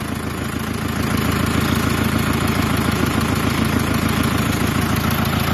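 A tractor engine runs nearby with a constant loud chugging drone that holds steady from start to finish.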